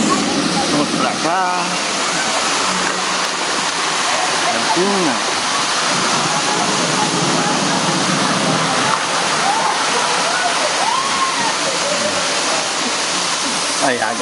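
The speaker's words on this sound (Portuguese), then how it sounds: "Essa cascatinha é boa demais" A small waterfall of hot water at the Hot Park water park in Rio Quente, Goiás, pours in a loud, constant rushing splash, with people calling and chattering underneath.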